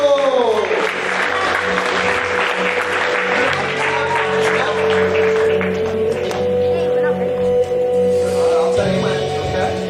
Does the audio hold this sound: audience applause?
yes